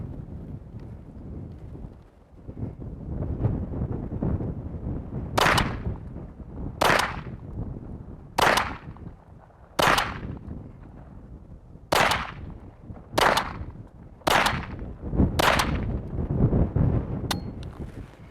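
Eight sharp gunshots from a Charter Arms Explorer II pistol at an outdoor range, fired one by one a second or two apart, loud and close over steady wind noise on the microphone.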